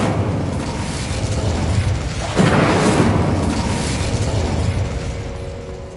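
Incendio fire spell cast in Hogwarts Legacy on PS5 Pro: a sustained roaring whoosh of flame with a sharp burst swelling partway through, loud and close, fading toward the end without any voices.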